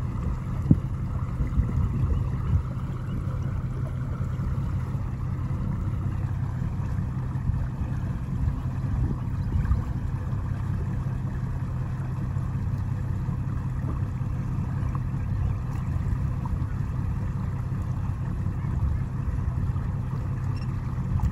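A boat's engine drones steadily on the water as the boat turns, a low constant rumble with faint splashing, no voices over it.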